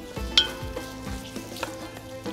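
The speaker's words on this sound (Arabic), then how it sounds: "أول شيء رح ضيف السمنة، وفي عنا البصل" Julienned onions fry in ghee with a soft, steady sizzle, broken by a few spatula scrapes and light knocks against the pot.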